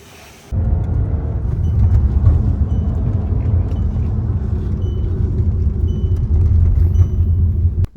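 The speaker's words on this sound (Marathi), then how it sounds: "जस्ट आता आपले हॅरियर घेऊन आलोय शोरूम मधून" A Tata Harrier SUV just collected from the showroom drives steadily, its low engine and road rumble loud and close, starting abruptly after a brief quiet moment and holding a constant level throughout.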